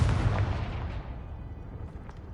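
A Confringo blasting spell in Hogwarts Legacy on PS4 sets off a deep, booming explosion that starts loud and rumbles as it slowly fades.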